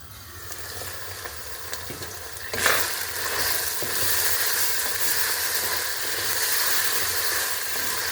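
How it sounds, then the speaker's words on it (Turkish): Food sizzles steadily as it roasts down in a pan, a continuous close frying hiss with occasional stirring scrapes and a brief louder burst partway through. "iyice suyunu çekti ve artık kavruluyor"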